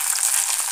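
Oil sizzling in a pan for an egg pancake, a brief steady hiss, loud and close, no voices.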